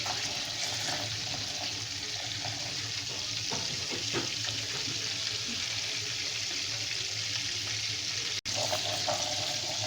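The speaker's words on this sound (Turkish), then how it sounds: "Evet arkadaşlar yağımız şu an erimeye başladı." Butter melting in a hot pan for Rize-style muhlama, a continuous bright sizzle and crackle with occasional stirring scrapes, close and even, broken by a brief cut near the end.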